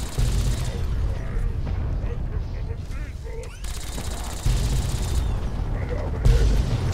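Explosions and bursts of gunfire in Fallout 3, loud booming blasts and rattling fire in several heavy surges with brief lulls between them.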